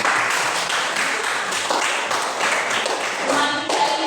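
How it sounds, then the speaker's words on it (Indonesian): Classroom audience applauding two presenters: a dense burst of many hands clapping, steady and fairly close, sustained for about four seconds with little talk. "Mari kita beri aplaus untuk"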